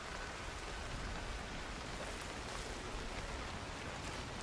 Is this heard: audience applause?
no